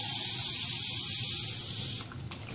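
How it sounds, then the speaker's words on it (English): Tap water running into a lab cup, a steady hissing stream that shifts in tone near the end as the cup fills, close and alone. "this cup you're going to fill with water from the tap"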